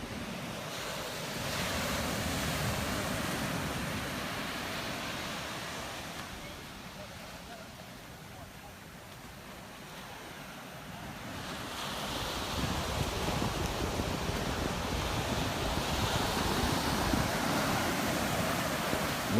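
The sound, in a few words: ocean waves breaking at Kua Bay, Hawaii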